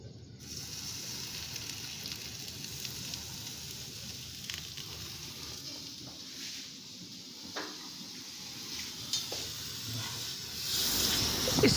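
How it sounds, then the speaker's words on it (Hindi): Naan frying in milk and oil, a faint, soft, steady sizzle under light background noise, with a brief knock and a louder rustle toward the end. "नान को फ्राई कर लिया"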